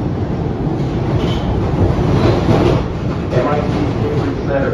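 A Boston MBTA Red Line subway train rumbles loudly and steadily from inside the car near Kendall/MIT, with low rolling noise and faint wheel clatter, as a voice talks over it.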